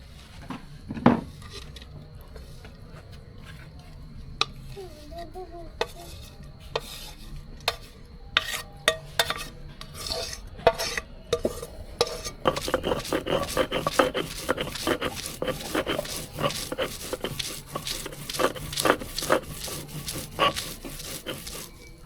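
Dried shrimp fried with onion, garlic, coriander leaves, salt and turmeric is ground into a mash, giving repeated scraping, rubbing and knocking strokes that grow denser and steadier partway through, close up with no talk.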